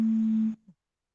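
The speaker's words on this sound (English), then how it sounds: "my phone is ringing." A mobile phone ringtone sounds as a steady electronic tone that cuts off abruptly after about half a second, followed by a brief soft blip and then silence.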